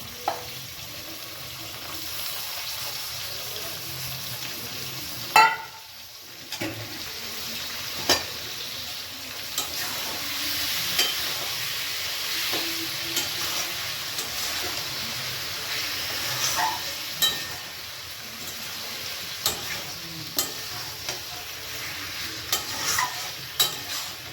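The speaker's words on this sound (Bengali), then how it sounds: "এবার আমি আস্তে আস্তে মাংসটা দিয়ে দেবো। এই যে আমার পাঁঠার মাংস" Minced goat meat for ghugni fries in a pan with a soft, steady sizzle, close and quiet, broken by occasional clinks and scrapes of stirring.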